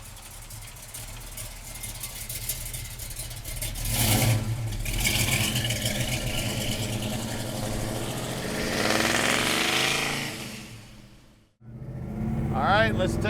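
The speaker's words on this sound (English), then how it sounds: "Listen to that exhaust." A big-block engine in a 1966 Chevrolet Chevelle rumbles and revs through a loud exhaust, rising and falling as it accelerates, with a brief drop near the end before roaring again.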